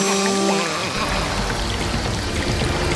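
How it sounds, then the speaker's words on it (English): A hose pours water in a steady, rushing stream, close and fairly loud, as a ship is washed in a cartoon, continuing without pause for a few seconds. "Dr. Spooky, turn off the water when you're not using the hose."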